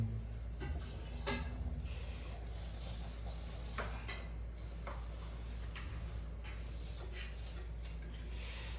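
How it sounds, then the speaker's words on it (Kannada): Rice going into a pot for biryani in a home kitchen, heard as faint scattered clinks and rattles of grains and utensils against metal over a steady low background hum. "ರೈಸ್ ಹಾಕ್ತಿದ್ದೀನಿ"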